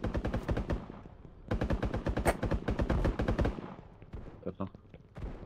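Rapid bursts of automatic gunfire in a Mini Royale battle royale video game, loud and dense, pausing briefly and then resuming, with a voice talking over the later part.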